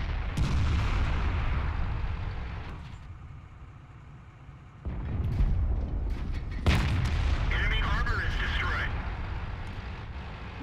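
Tank cannon fire and explosions in the video game World of Tanks, with a Centurion Mk. 7/1 tank rumbling along as heavy booms punch through, close and loud, with a voice talking over the battle.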